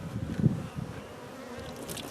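Honeybees drone steadily during a first inspection of a hive, their buzzing close and continuous with a slightly louder swell near the start.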